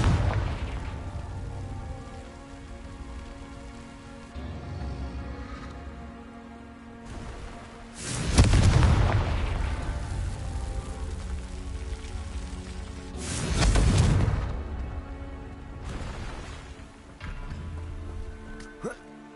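Heavy blast bursts from the Confringo spell in Hogwarts Legacy boom out twice over a steady rumbling, rain-like game ambience, with a quieter burst near the end.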